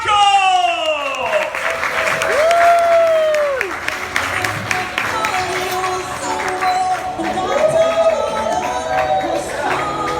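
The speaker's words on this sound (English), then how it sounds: "Ladies and gentlemen, make some noise for Michael!" Audience at a stand-up comedy show in Canggu, Bali applauding and cheering loudly, sustained clapping and whoops throughout with a voice shouting over the crowd.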